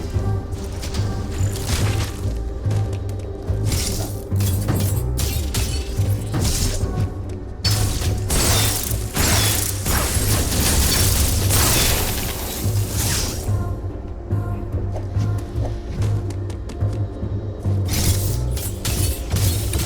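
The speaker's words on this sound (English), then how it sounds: "Why am I even bothering to bomb that bit of ground when I damn well know that it's not going to do anything?" Bomb blasts on the ground in Metroid Dread, a dense run of crunchy, clattering detonations with sharp transients and a low rumbling bed, loud and continuous with no talking.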